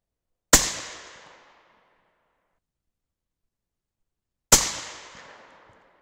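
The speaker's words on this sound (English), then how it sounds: "I got the tiniest little bit of hang fire on that one." Two loud, close 6.5 Creedmoor rifle shots about four seconds apart, each a sharp crack trailing into a long, fading echo, with a slight hang fire noted on the rounds and silence between them.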